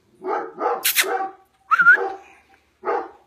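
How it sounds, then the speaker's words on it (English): A dog barks in a few separate bursts with short gaps between them, close and fairly loud, including one higher yelping bark. "That's my boy barking here."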